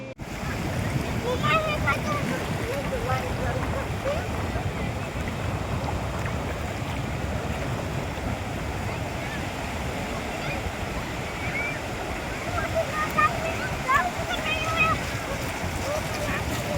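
Sea waves break and wash onto a beach in steady, broad surf with wind rumble on the microphone, while people talk and call out over it at moderate distance.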